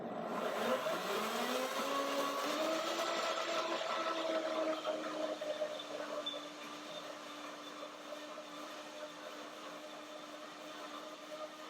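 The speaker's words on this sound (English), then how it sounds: "Now I show you the blender dance." A countertop blender whirs steadily, blending a lemony banana yogurt dressing for a fruit salad, its motor pitch rising briefly then settling into a constant loud drone that eases slightly toward the end, with no talking.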